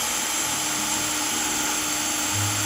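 A Hory 198V cordless drill running in second gear, a loud sustained high-pitched whine with a steady motor drone that dips slightly near the end, no talking over it.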